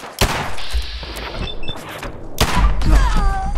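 Heavy gunshots from a slow-firing, powerful gun in Fallout 4, two big booming blasts about two seconds apart, each with a crashing tail, over low game ambience.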